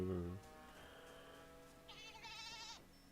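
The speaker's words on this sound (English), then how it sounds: "I hear a goat." A goat bleats in a game setting. A short low sound opens the passage, then a quieter stretch follows, then a high quavering bleat comes from a modest distance.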